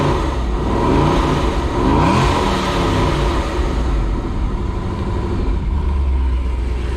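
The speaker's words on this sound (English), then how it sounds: "let's do a couple revs, put some pressure on it." Car engine revved a couple of times after an injector fix, close and loud, the pitch climbing and falling with each rev before settling back toward a steady run.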